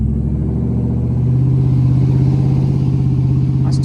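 A 5.9L second-generation truck with true dual exhaust and cheap $60 mufflers holds a steady 2,000 RPM, giving a loud, deep, choppy low rumble that stays constant throughout, close by and without talk.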